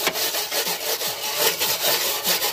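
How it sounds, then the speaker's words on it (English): An angle grinder grinds down a weld in a car engine bay, giving a harsh, rasping scrape in short rhythmic strokes, close and steady with no talking. "Right in the end, we're just gonna grind that bitch down."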